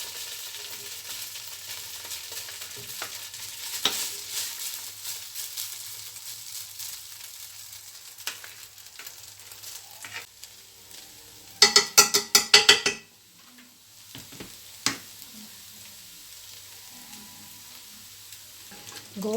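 Rice sizzling and being stirred in oil in a pan for mutton biryani: a soft, steady fry with scraping stirs, and a burst of sharp clinks and scrapes against the pan partway through.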